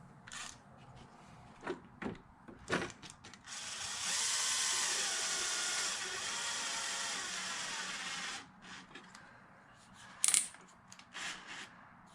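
A power driver on its softest setting runs bolts into the body of a LOSI Super Baja Rey 2.0 RC truck, giving one long steady whir of about four seconds between short clicks and handling clatter.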